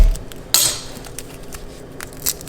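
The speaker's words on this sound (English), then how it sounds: "To get the peel off, you put your knife on, you smash it" A kitchen knife smashes a garlic clove on a board to loosen its peel: one sharp, close crack-and-thud, followed by faint scraping and a small knock.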